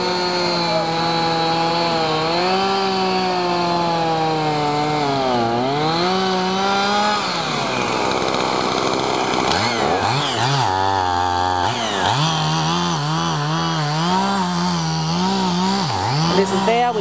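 Chainsaw revving and cutting through dead trees while clearing ground, a loud steady engine whine that rises and falls in pitch as it bites into the wood, close by throughout.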